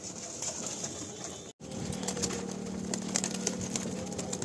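A released male and female pigeon pair coo in soft, low, repeated notes, close by. A brief dropout comes early, then the cooing runs on against light background noise.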